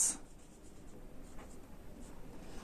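Marker or chalk writing on a board during an English grammar lesson, soft scratchy strokes at moderate level with faint room noise, no talk.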